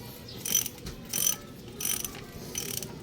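A 17mm wrench loosening the oil drain bolt on a Kawasaki Barako 175 motorcycle, close-up metallic ratcheting clicks in four short bursts between pauses.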